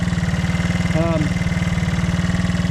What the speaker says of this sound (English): We are idling a little high.